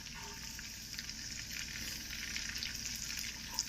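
Vegetables and red pepper bubble and sizzle briskly in butter in a pan, a continuous faint crackling hiss with scattered pops.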